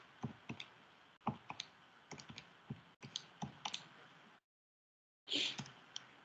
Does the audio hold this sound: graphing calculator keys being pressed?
yes